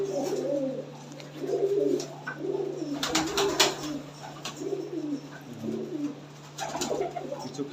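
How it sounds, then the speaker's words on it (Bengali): Fancy flying pigeons kept indoors coo in repeated soft, throaty bursts close by, with overlapping calls and a steady low electrical hum underneath throughout. "খেলা পায়রা রয়েছে দাদার কাছে, রুমের মধ্যেই বাজি দিচ্ছে"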